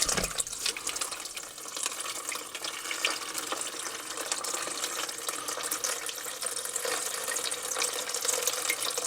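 Water drains from a plumbing pump while the system is winterized against freezing: a steady, fairly close rushing and splashing flow that runs unbroken throughout, with no talking.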